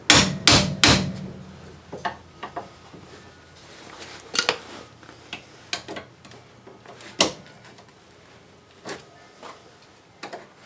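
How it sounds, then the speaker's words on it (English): A big screwdriver levers and knocks against a metal strut bracket on a Hyundai Elantra, giving sharp metallic clanks and taps, loud bursts at first, then scattered lighter knocks, close up. "let me grab a big screwdriver and go after this bracket"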